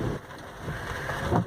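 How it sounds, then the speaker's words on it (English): A steady, soft wash of rain noise with a low rumble underneath, continuous and fairly even throughout, with no voices. "It's raining."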